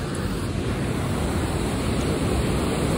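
A village stream in rural Nepal rushes loudly and steadily, a dense unbroken wash of flowing water with no voices over it.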